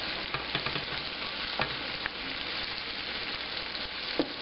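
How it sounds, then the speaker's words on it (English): A homemade tortilla sizzles on a hot pan with a quiet, even crackle, broken now and then by small pops and clicks, with no voices. "You ready for tortilla application to the hot pan?"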